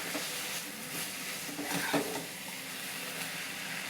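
Mango rice ingredients sautéing in a pan, a continuous bright frying sizzle with occasional stirring scrapes, fairly close and steady throughout.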